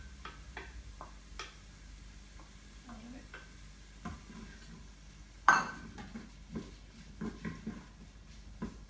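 A chopped brown onion hits a hot pan and fries, with a sudden loud sizzle burst midway surrounded by scattered clicks and stirring taps, quieter crackling continuing afterward.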